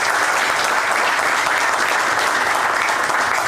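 A listed-company ceremony audience at the Casablanca Stock Exchange breaks into steady, dense applause, loud and continuous throughout with no voices rising above it.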